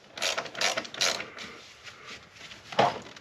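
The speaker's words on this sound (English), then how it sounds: "we're just going to back this thing off. A T30 Torx head." Ratchet backing off a T30 Torx bolt on a GTO engine during teardown, several quick close ratcheting strokes at first, then a pause and one last click.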